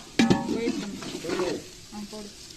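Ladle stirring chicken biryani masala with fresh coriander and mint leaves in a home-style pot, a few close scraping strokes with soft sizzling underneath, loud at first then easing off.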